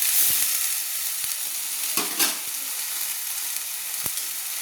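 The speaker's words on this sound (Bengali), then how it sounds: "তো আমি নেড়ে নিচ্ছি।" Ground spices and salt are stirred in a hot frying pan for a ghugni curry, giving a continuous close sizzle cut by a few sharp scrapes and knocks of the spoon against the pan.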